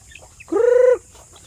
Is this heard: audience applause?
no